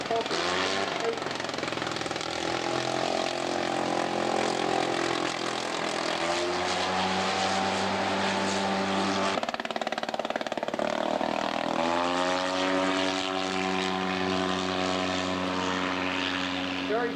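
A radio-controlled scale Nieuport biplane with a selector magneto makes a low-level pass: a loud, continuous buzzing engine drone whose pitch sweeps down and then rises again as it approaches, passes and recedes.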